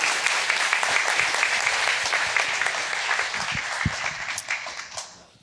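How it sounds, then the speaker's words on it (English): An audience at a business summit fireside chat applauds to welcome guests on stage, dense steady clapping that tapers off near the end. "give a round of applause for Kevin and Mike"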